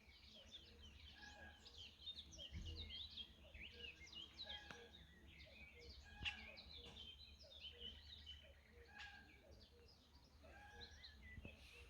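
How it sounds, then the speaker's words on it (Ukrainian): Many birds chirp and sing in an overlapping chorus near beehives at a country property, fairly close and steady, with light outdoor background noise. "Як гарно пташки співають."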